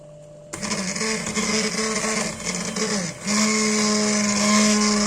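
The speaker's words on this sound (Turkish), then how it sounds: "Çorbayı blenderdan geçiriyorum." A blender whirs loudly and steadily, its motor pitch dipping and rising as it purees a thick vegetable soup, starting abruptly after a brief quiet moment.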